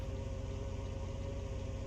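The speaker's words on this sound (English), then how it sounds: "It's got a really interesting sound to it, as far as on the idle." The engine of a Pagani Zonda Revolution idles in Car Mechanic Simulator 2021, a steady, quiet, even hum with a low rumble and no change in pitch or rhythm, heard on its own without talk.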